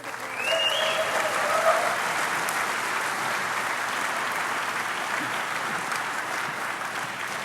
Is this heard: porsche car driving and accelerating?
no